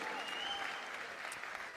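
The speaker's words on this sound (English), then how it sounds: "On peut les applaudir bien fort, les Optic Gaming, champions de cette ESWC" A distant esports crowd applauds Optic Gaming, the ESWC champions, a faint, steady wash of clapping lasting under two seconds.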